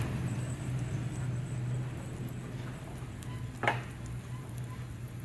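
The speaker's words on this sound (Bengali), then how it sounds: "আমার ডিমটা কত সুন্দর ফ্রাই হচ্ছে" An egg frying in a pan over a gas flame gives a faint, steady sizzle, broken once by a short clatter partway through.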